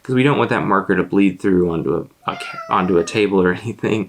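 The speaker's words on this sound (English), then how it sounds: "You might hear a cat meow from time to time." A cat named Frank meows a few times in an illustrator's drawing room, short mews mixed in under continuous close talking.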